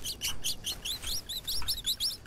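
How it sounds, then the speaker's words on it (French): Birds chirp in a jungle game setting, a rapid run of high, bright tweets and short rising calls repeating steadily over about two seconds, fairly close and clear with no talk. "il y a des oiseaux qui m'ont fait extrêmement peur"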